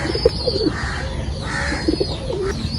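Pigeons and young squabs kept in a crate coo in soft repeated throaty phrases, close by and fairly loud, with a faint higher note running behind them.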